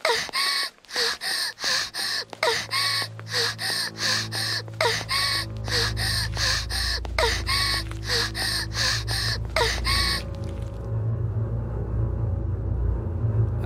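Repeated breathy panting from a girl character in the horror game Corpse Party 2, quick rhythmic gasps over a low rumbling ambience, ending in a steady drone after about ten seconds.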